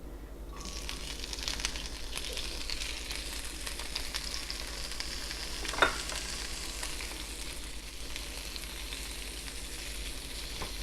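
A frittata mixture with prosciutto and garlic sizzles steadily in a hot pan, a constant close frying hiss with light crackles and one brief sharper clink of a utensil midway.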